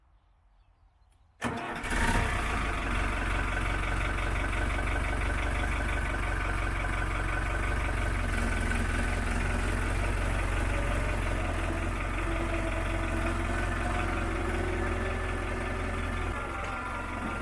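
Old tractor feeder engine on a dairy farm in New Zealand cranks and starts, then settles into a steady, loud mid-pitched diesel idle with a slight knocking rhythm that runs without letup.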